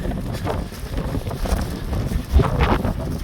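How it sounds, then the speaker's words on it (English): Gusty wind buffets the microphone with a low, steady rumble and rushing noise, swelling louder near the end. "down here, God, it's windy"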